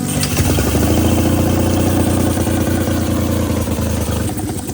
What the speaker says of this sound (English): We have 1 out of 3 engines going so far.